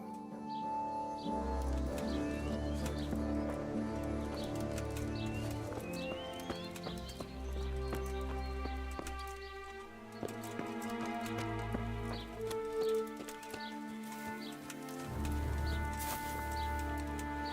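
Horse hooves clip-clop in a rhythmic walking gait in the medieval video game Kingdom Come: Deliverance, with steady repeated footfalls, pauses between strides, game music and occasional bird calls in the background.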